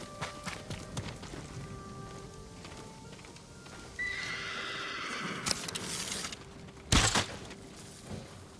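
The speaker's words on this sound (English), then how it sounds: "Stables are just up ahead." Horses at stables in the Ghost of Tsushima video game, with hooves clip-clopping and a loud neigh rising midway, followed by a sharp close whinny.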